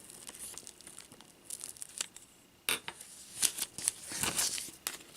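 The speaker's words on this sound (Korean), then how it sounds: "밀대로 밀어줍니다." A rolling pin pressing modeling clay under a plastic sheet makes crinkly, crackling rustles and scrapes, irregular and fairly close, as the plastic shifts and crumples during the rolling.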